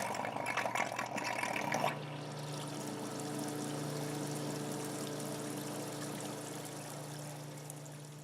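A commercial fryer's filter system pumps oil back into the open-drained fry pot to wash it down. A brief louder splash is followed by a steady, close pump hum and a constant flowing rush of oil.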